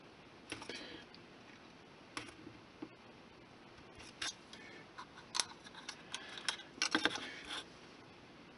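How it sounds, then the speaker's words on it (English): A knife trims a scrap of 20 thou styrene sheet on a model rooftop, making faint, irregular ticks and scratchy clicks that cluster toward the end, recorded up close in a quiet room. "I'm just going to cut away most of it with a knife."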